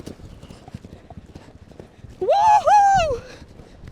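Rhythmic hoofbeats patter quickly and steadily as a horse gallops, with a loud voice whooping over them partway through.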